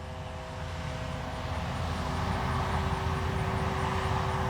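A CNHL Bison XT STOL model airplane flies with its propeller engine running, a steady buzzing drone that grows slightly louder and stays even throughout, with no speech over it.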